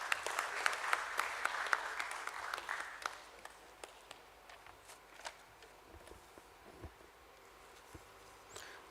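Audience applause at a stock-exchange listing ceremony, a full burst of many hands for about three seconds that thins into scattered, fading claps.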